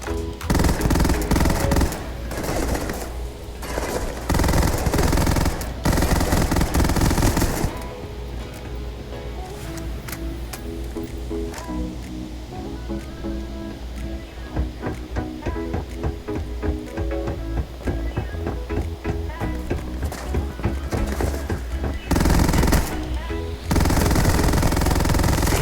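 Buzzcut rapid-fire gun in the sci-fi shooter Starfield roars in long sustained bursts, loud and dense, with brief pauses and quieter stretches between volleys, no talk.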